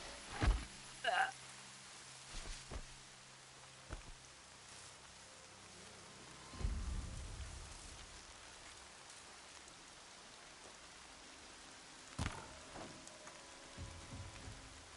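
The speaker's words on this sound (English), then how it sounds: "More rain." Steady, faint rain falls in a video game, a soft continuous hiss with a few louder scattered knocks and thumps.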